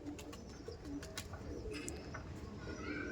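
Andhra pigeons cooing in a busy outdoor loft, soft coos and a few chirps set against a constant hum of traffic and crowd noise.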